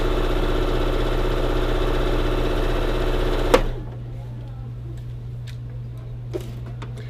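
A sewing machine stitches double gauze swaddle blanket fabric along a curve, giving a steady mechanical hum for a few seconds before stopping abruptly, leaving a quiet room with faint ticks.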